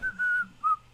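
A person whistles three short, clear notes close by, the middle one longest, with nothing else behind them.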